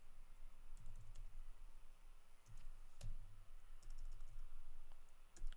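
Keys on a computer keyboard are tapped slowly and quietly in scattered, uneven clicks, with short pauses between bursts and no talking.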